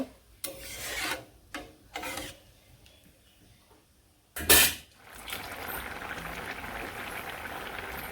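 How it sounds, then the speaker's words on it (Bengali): Spice paste ground by hand on a grinding stone in a village kitchen, a series of rough rasping strokes, several short rubs followed by a louder scrape and then a steady gritty grinding. "এখন ওটার মশলাটা বেটে রাখছি"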